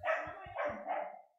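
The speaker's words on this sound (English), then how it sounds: "My puppy is making noise." A puppy gives a quick run of faint, high yapping barks, three or four short bursts in a little over a second, heard at a distance through a room, without talk over it.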